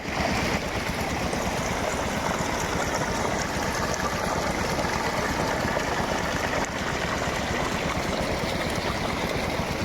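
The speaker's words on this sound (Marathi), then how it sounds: "ते पाणी समोर आपल्या पाईपातनं तिथनं पाईपानं आतमध्ये घेतलं आहे" Water rushes steadily from a pipe into a flooded rice paddy at the start of the rainy-season planting in rural Maharashtra, a continuous close splashing flow with no speech.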